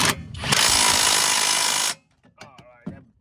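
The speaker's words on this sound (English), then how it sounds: "Now it is time to permanently tighten these bolts. Slide in your impact gun on top" Impact gun tightening rear brake caliper bolts on a Chevy Equinox, one loud close burst of buzzing hammering lasting about a second and a half, then cutting off into quiet with brief voices afterward.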